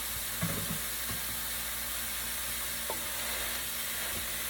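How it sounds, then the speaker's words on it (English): Ground meat hits a hot pan for a spaghetti meat sauce, giving a steady, quiet broadband sizzle with a few soft clicks and scrapes, close and without talk. "Add my meat to the pan."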